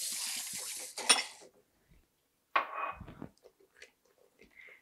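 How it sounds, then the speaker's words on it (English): Thick custard is stirred in an Instant Pot liner. A spoon scrapes and clinks against the pot in short, uneven bursts with quiet gaps between them, fairly faint and close by. "Make sure you're stirring this pretty constantly."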